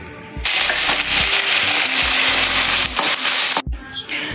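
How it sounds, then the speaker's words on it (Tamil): Curry leaves hit hot oil in a pan for chicken varuval and set off a sudden loud, steady crackling sizzle. It runs for about three seconds, then drops away sharply, all close up with no speech. "இப்போ ஒரு கைப்பிடி அளவுக்கு கருவேப்பிலை ஆட் பண்ணிக்கலாம்"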